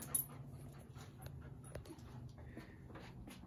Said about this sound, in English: That's our shop dog, Luna and Jay, making all that background noise.